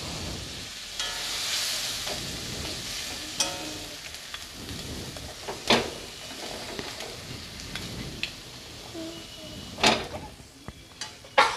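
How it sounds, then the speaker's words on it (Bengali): Metal spatula scraping and mashing a fish head in a simmering pan of spiced water with chilli powder, making intermittent sharp clinks and scrapes over a soft bubbling bed, close and moderately loud. "মাছের মাথাটাকে খুন্তি দিয়ে আমি একটু গুঁড়ো গুঁড়ো করে দেবো"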